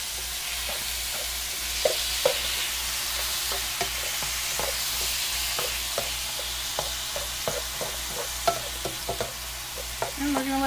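Chicken pot pie filling sizzles in a pan with a steady fry, and sharp scrapes and taps of a spoon come at irregular intervals. A low hum runs underneath and no one speaks.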